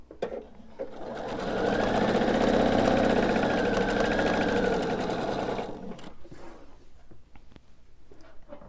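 A sewing machine chain-pieces quilt diamonds in a rapid mechanical whir that ramps up, holds steady for several seconds, then stops, leaving quiet handling noises.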